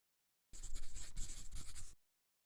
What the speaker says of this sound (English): So let me just write that next.